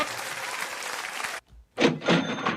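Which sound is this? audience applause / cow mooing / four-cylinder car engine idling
audience applause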